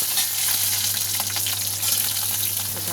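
Ridge gourd and potato pieces hit hot oil with fried black cumin seeds in a home kitchen, a continuous loud close sizzle and crackle with light stirring scrapes.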